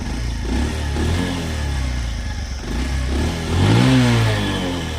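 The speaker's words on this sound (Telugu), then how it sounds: "ఎగ్జాస్ట్ సౌండ్ చూడండి ఒకసారి" A Bajaj Platina motorcycle exhaust rumbles steadily, then revs up sharply near the end, the engine note rising loud and close before settling.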